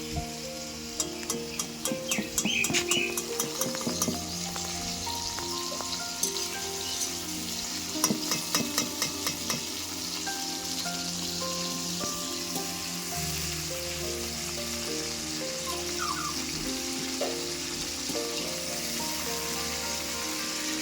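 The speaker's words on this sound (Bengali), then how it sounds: "চিংড়িগুলো আমার ভাজা হয়ে গেছে চিংড়িগুলো এবার তুলে নেব" Prawns fry in hot oil in a pan and produce a steady close sizzle throughout. Bursts of scraping and clattering stirring come early on and again near the middle.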